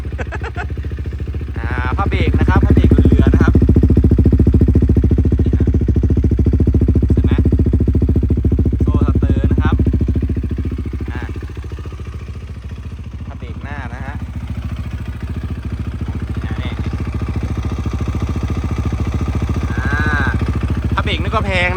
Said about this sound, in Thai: นี่คือเสียงของ KTM นะครับ